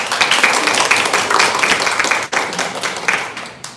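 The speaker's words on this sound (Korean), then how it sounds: "다시 한번 박수." Audience applause at a Korean sustainable development lecture in Pyeongtaek: a dense, steady round of clapping from a room full of people, close and lively, lasting several seconds without speech.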